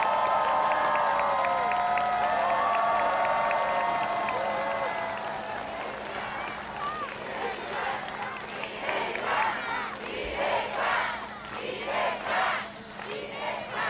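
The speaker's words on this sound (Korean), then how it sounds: "여러분, 박수 부탁드립니다." Crowd at a Democratic Party of Korea political event bursts into applause and cheering in thanks to former party leader Lee Hae-chan, loud at first and then fading into scattered clapping and crowd murmur.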